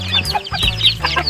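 Hungry backyard hens cluck loudly and close by in quick overlapping bursts, a busy chorus of short calls with no talking.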